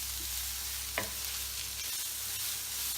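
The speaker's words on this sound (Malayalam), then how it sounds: "ഇതെല്ലാം നന്നായി വഴറ്റിയെടുക്കാം." Garlic paste sautéing in a pan for butter chicken, a steady close sizzle and frying hiss with a brief stir scrape partway through.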